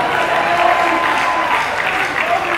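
A live comedy show crowd claps steadily, a moderately loud wash of hands with faint tonal background sound underneath.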